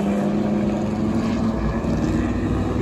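A vintage Jaguar race car drives at Laguna Seca during a motorsports reunion. A steady, loud engine drone with a low rumble carries on throughout without a break.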